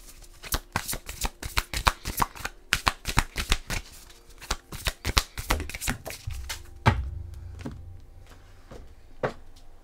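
Oracle cards being shuffled and drawn in a tarot reading: a fast run of crisp, close papery card slaps and flicks, then slowing into a few softer handling taps and a card drawn.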